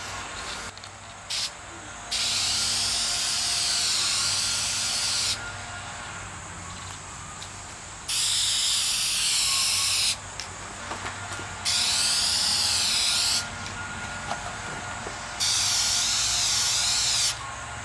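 Gloss paint sprayed onto a radio cabinet in four long hissing bursts of several seconds each, separated by short pauses, close and loud over a low background hum.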